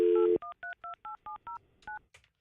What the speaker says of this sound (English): Let me call the house phone.